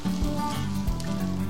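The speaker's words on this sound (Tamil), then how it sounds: "வெங்காயத்தை ஒரு 2-3 நிமிஷத்துக்கு நல்லா வதக்கிக்கோங்க" Chopped onions sauté with spices in hot coconut oil for a mutton white salna, giving a steady, close crackling sizzle with no talking.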